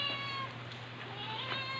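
A cat meows softly a few times over a steady low hum, fairly faint and somewhat distant, with rain falling.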